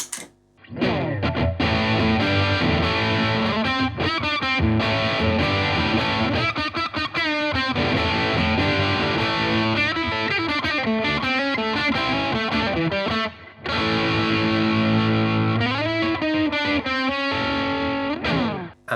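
An electric guitar through an Analogman King of Tone overdrive pedal with tone at zero plays a loud, continuous riff with a dark, muffled tone, briefly dropping out once before carrying on.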